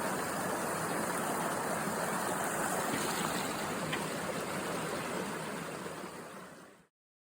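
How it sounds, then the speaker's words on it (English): A hiker wades through a small creek crossing on a trail, and rushing, splashing water fills the clip at close range. The sound stays steady, then cuts off abruptly near the end. "I've lost count of how many of these little creek crossings I've done, and I wanted to film one of them"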